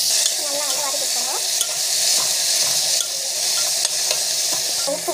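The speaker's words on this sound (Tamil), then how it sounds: "அவரைக்காய் ஆட் பண்ணிவிட்டு ஜஸ்ட் வந்து வதக்கி கொடுத்தாங்க" Broad beans sautéing in a pan, a steady close sizzle and hiss of frying with faint stirring scrapes throughout, no voices.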